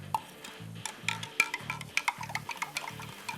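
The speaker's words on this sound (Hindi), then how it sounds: "इसको मैं मिक्स कर लूँ अच्छी तरह" Spoon stirring and mixing chicken with stock in a sauce pan, soft scraping and light clinks against the pan at a steady rhythm over low bubbling, close and fairly quiet, with no talking.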